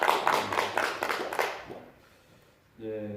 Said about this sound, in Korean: 박수를 한번 크게 치시기를 바랍니다.